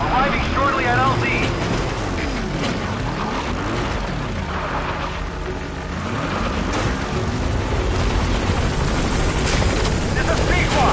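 In the Metal Gear Solid V video game, the Pequod helicopter approaches the landing zone with loud, steady rotor thumping and a pitch that rises and falls, while a radio voice speaks over it.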